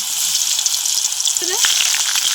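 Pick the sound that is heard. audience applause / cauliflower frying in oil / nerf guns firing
cauliflower frying in oil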